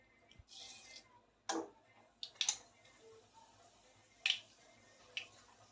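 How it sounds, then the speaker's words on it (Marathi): Mustard seeds crackle in hot oil in a pan, sounding as a handful of sharp, separate pops spread over a few seconds against a quiet background. "मोहरी तडतडायला लागली आहे"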